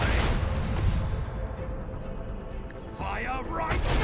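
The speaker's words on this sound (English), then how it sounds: "Macro cannons, volley!" Macro cannons fire a volley in the video game Warhammer 40,000: Rogue Trader, with dense, rumbling booms and blasts running continuously under loud talk and other battle sounds.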